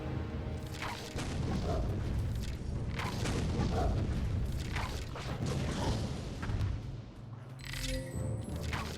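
Bombs explode repeatedly in The Lord of the Rings The Two Towers video game, a dense run of heavy booms and crashes that overlap through a loud, rumbling battle din.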